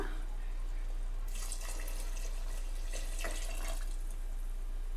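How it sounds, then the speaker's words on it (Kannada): Water is poured into a pot of chickpea and pea sambar on a kitchen stove. The pour is a soft splashing rush for a few seconds over a constant low hum. "ಇವಾಗ ನೀರನ್ನ ಆ್ಯಡ್ ಮಾಡ್ಕೊಳ್ಳೋಣ"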